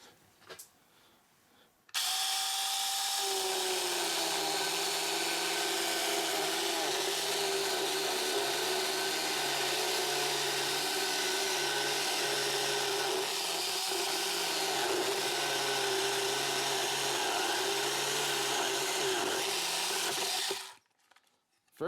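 A Sainlogic 6 inch mini chainsaw plunge cutting into very hard wood, a loud continuous motor whine that starts abruptly, drops in pitch as the bar bites, and runs steadily for about eighteen seconds before cutting off.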